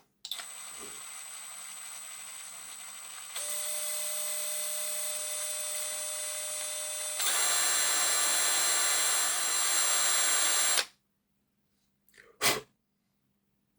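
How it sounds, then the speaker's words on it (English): Tiny drill bit opening up a stripped screw hole in a Bachmann Class 56xx model locomotive, a steady high whine that steps up in pitch and intensity in stages before stopping, followed by a brief clatter. "gently drill this out."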